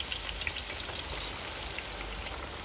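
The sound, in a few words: onions frying in hot oil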